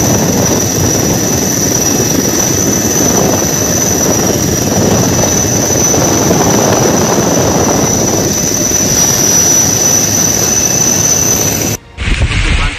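A helicopter flies during a coast guard and army rescue operation in flood-hit Gujarat, its loud, steady rotor and engine roar filling the air without a break until an abrupt cut near the end.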